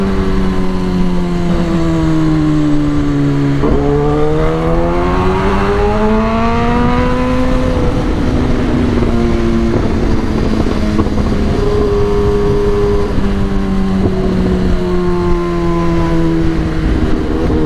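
A motorcycle with traction control switched off accelerates hard, its loud, close engine note climbing through several gears with brief dips between shifts and holding a steady high drone.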